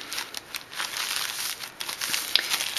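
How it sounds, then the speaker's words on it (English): Natural unbleached paper coffee filter being folded over and creased, giving soft close crinkling and rustling in short bursts with a few sharper crackles, no voices. "Fold it in two again"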